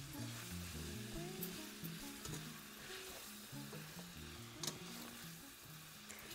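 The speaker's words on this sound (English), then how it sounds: "We're just gonna sweat them out a little bit very quickly." Onions sweat and sizzle in hot oil in a pan, a steady close frying hiss with a spatula clicking and scraping throughout, no talking.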